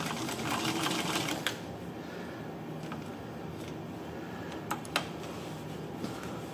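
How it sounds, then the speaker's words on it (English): A sewing machine stitches in reverse during a timing and stitch test, a steady mechanical whir running throughout with a few sharp clicks near the end, no talking. "And then we can reverse, and it's catching stitches in reverse."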